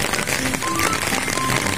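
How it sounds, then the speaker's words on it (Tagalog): Rain patters steadily on a nearby surface, a dense crackling spatter that holds constant for under two seconds. "Lilakas pa ulan."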